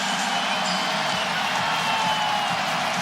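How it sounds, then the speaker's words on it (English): A basketball arena crowd in Dallas roars for Luka Doncic, a dense, continuous wash of cheering with no distinct breaks, broad and steady from start to end. "And the whole crowd's cheering for him."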